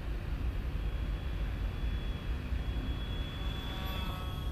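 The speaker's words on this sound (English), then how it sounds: "Oh, listen to that beautiful little buzz. So quiet." ZOHD Drift RC plane in flight, its motor giving a thin, steady high buzz that carries faintly over constant wind-like rumble, heard from a distance outdoors.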